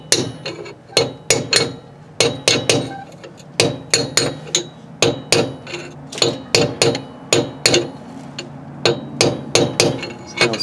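Sharp metallic hammer strikes on a brass drift driving a part into a Dana 30 axle ring out in quick irregular bursts, loud and close, continuing steadily with brief pauses between groups of blows.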